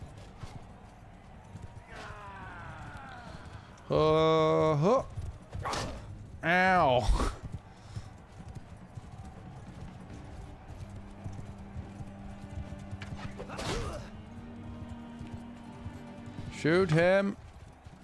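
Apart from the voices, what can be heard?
horse hooves and neighing in video game Mount & Blade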